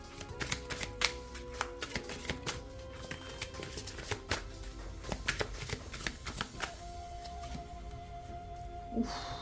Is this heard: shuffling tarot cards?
yes